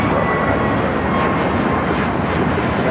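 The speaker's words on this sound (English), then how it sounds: "Next takeoff, American Airlines flight 1659 headed to Dallas, Fort Worth, Texas" An American Airlines Airbus A321neo bound for Dallas–Fort Worth takes off from runway 25 right at Los Angeles International Airport, a loud, continuous broadband jet roar close by with no talk.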